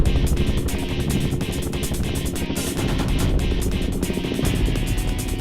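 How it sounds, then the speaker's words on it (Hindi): A helicopter flies overhead, its rotor producing a loud, steady, rapid chopping pulse with a heavy low rumble throughout. "वो पांडे जी ने हमसे कहा था कि वो हेलीकॉप्टर में बैठ के चाचा जी को ढूंढने की कोशिश करेंगे"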